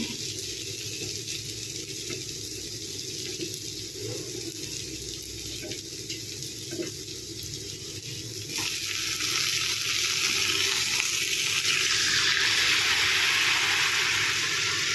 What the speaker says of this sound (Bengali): এবার পোস্তের পেস্টটা দিয়ে দেব বসে গেছে একটু নাড়িয়ে নিতে হবে